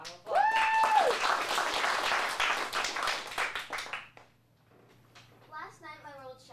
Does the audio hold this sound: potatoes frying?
no